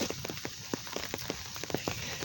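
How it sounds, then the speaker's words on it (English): Heavy rain pours down outdoors, heard as a faint, steady wash with scattered ticking drops striking a surface. "it's pouring down raining"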